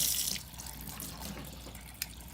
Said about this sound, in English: Let me turn my water on a little bit.